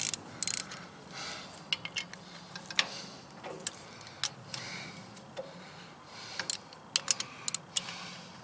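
A ratchet wrench tightens bolts on a Pat's Quick Hitch, giving quiet, close ticking clicks in short irregular runs over a low background hum.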